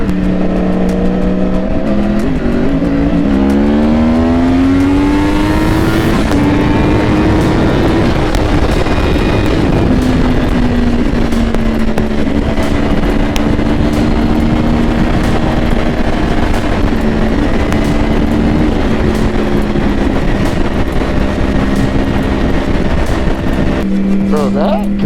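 Yamaha R1 sport motorcycle with a changed sprocket ridden hard on the Tail of the Dragon, its engine droning loud and close under heavy wind noise as revs climb and fall through gear changes, with a sharp rise near the end.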